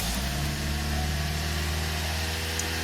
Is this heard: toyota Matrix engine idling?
yes